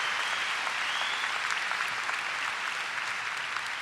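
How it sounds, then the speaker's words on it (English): Sustained applause from a crowd at a 2015 Hofstra University graduate commencement, honoring armed forces members, steady and dense throughout with no voices over it. "Let's have a round of applause for them as well."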